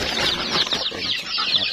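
Japanese bantam chickens on a Filipino goat farm cluck and chatter close by, a busy overlapping run of short calls with no talk over them.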